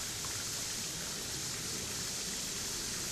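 Water pours steadily over the falls at Waterfall Glen, a dense, even rushing hiss that stays constant and fairly soft, with no voices over it.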